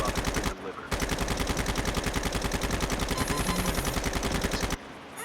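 Rapid automatic gunfire from Call of Duty Mobile battle royale, loud and sustained in a steady rattling stream with a brief pause near the start and again at the end.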